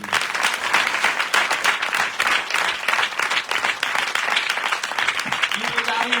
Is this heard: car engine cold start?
no